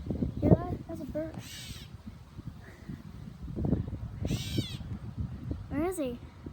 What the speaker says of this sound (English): hear that? That's a bird.